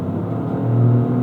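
A 2025 Toyota GR Corolla Premium with automatic transmission drives along with a steady engine rumble that rises slightly in pitch, heard from inside the cabin.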